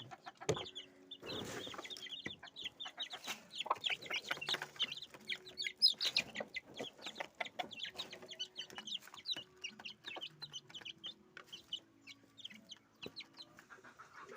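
Gamecock chickens and young chicks on a hot afternoon, a busy chorus of soft clucks and high peeping chirps, close and steady, with no one talking.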